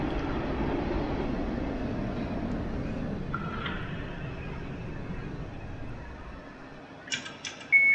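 Train pulling into James Street station in the Roblox game SCR, a steady low rumble of wheels and motor that fades as it slows, followed by a few short chimes at the end.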